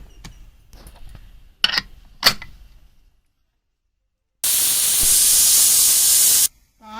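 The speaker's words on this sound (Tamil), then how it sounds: "இப்போ 6 விசில் விட்டாச்சு." A pressure cooker with mutton inside lets out one loud, steady whistling hiss of steam lasting about two seconds, after softer clatter and brief hissing bursts in the kitchen.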